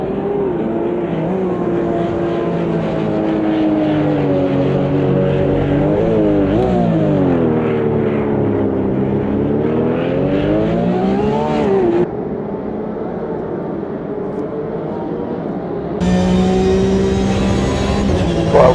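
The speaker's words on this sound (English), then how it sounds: "Minutes left on lap 29 here at the Grand Prix of Long Beach with the Porsche Cup cars." Porsche Cup race cars at full throttle on the Long Beach Grand Prix street circuit, loud sustained engine howl with rising and falling revs as they run the lap, no talk.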